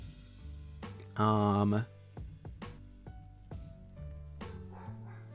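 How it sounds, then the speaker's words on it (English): Dogs barking in short, distant yips and bow-wows, with several scattered barks and one louder sustained tonal burst, while a person talks over them. "The dogs are borking over there."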